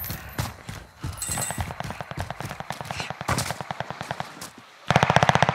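Rapid automatic gunfire from the video game Call of Duty Warzone rattles in dense repeated bursts, loud and close, ending in a sharp fast-firing volley.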